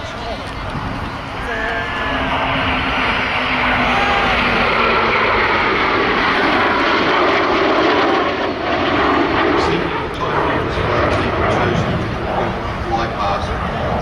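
A Eurofighter Typhoon jet at an air festival roars loudly and continuously overhead, a broad sustained engine rush that swells and holds throughout with no pause.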